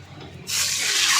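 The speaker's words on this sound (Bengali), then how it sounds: "আমি পরিমাণ মতো পানি দিয়ে দিছি" Water pours from a faucet into a cooking pan of prawns in a home kitchen, arriving suddenly as a steady, close rushing splash after a quiet moment.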